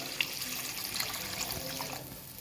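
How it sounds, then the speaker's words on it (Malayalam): Water pours steadily into a pan of threadfin bream curry made with coconut milk, a soft continuous splashing and trickle heard up close with no talk. "അപ്പോൾ ആവശ്യത്തിന് വെള്ളം ഒഴിക്കുക"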